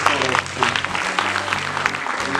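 Audience applause at a French graduates' ceremony, a steady patter of clapping held at moderate level for a couple of seconds, with a voice audible over it.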